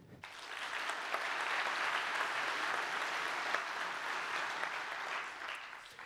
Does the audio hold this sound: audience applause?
yes